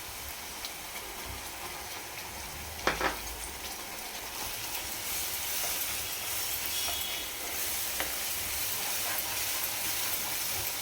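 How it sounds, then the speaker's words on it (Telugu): Ground masala paste frying with onions in a pan for an Andhra-style fish curry gives a steady, even hiss with a couple of brief clatters, and no one speaks. "దీంట్లోనే ఇప్పుడు మిక్సీ పట్టుకున్న మసాలా కూడా వేసుకుందాం."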